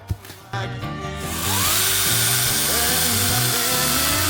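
A cordless battery chainsaw, Dnipro-M DCS 201 BC, whines up, then bites into wood with a loud, sustained buzzing roar that holds steady as the cut continues.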